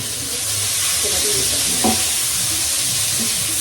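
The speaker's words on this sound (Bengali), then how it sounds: "ফুলকপি ভাজছি, ফুলকপিটা ভাজা হয়ে গেলে তোমার" Cauliflower pieces frying in hot oil in a pan, giving a steady, close, loud sizzle and hiss with light stirring sounds throughout.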